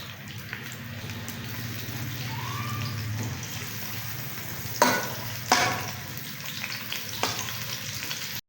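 Onions sizzle steadily in hot oil for Kabuli pulao, with a couple of sharp clinks from a utensil against the pan partway through.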